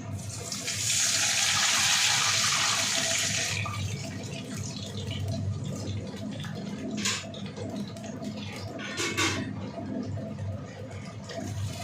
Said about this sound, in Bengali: এবার দিয়ে দেবো হচ্ছে জলটা খুবই আস্তে আস্তে দিতে হবে।